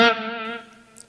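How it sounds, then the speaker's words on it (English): An electric guitar's sustained note fades through a delay pedal, its echo trail decaying smoothly over about half a second before trailing off into near silence. "you will hear the delay trail"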